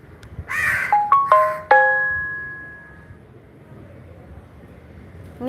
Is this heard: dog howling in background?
no